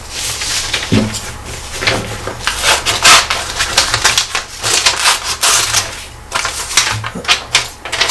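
Scissors snip a picture out of a magazine page up close, giving a run of crisp, irregular cutting and paper-rustling clicks with no talking.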